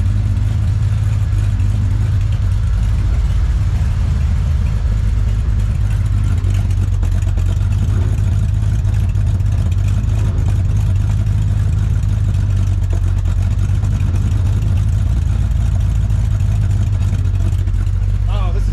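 A swapped-in 350 V8 runs in a car, loud and close, with a steady deep rumble throughout and occasional throttle revs. Speech is heard over the engine at times.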